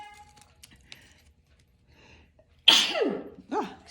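A woman sneezes twice in quick succession, loud and close, the second sneeze following about a second after the first, with soft rustling and small clicks in the quiet beforehand.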